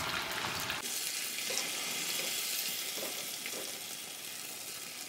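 Fish pieces coated in masala fry in oil in a small kadai, giving a steady, close hiss of sizzling with faint stirring and light clinks, and no talking.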